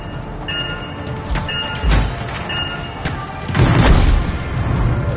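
Explosives detonate in a foundry in the video game Anthem: several deep booms and thuds roll out over a busy game soundscape, ending in a heavier, sustained rumbling blast.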